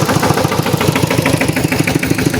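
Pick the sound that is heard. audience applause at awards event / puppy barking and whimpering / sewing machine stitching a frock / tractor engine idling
tractor engine idling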